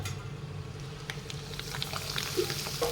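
Potato chips frying in hot oil, a steady, even hiss and bubbling that holds at a moderate level throughout, with no talking.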